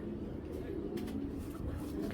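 Pigeon coming back to its loft, with soft, low cooing close by over a steady background hum and faint rustling.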